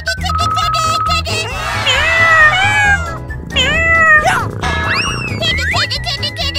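A cat meows repeatedly in rising and falling cries over a busy background of music and children's play sounds, with a voice calling out now and then.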